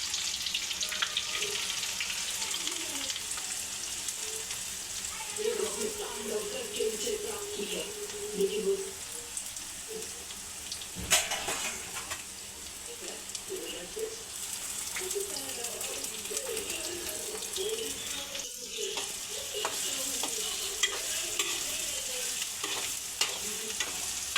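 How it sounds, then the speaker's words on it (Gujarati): Spices and onion for a coconut chutney tempering sizzle and fry in a pan, with soft stirring scrapes throughout. The frying stays fairly quiet and steady, and a brief low voice and clatter appear. "આપણે આ મસાલાનો વઘાર કર્યો છે"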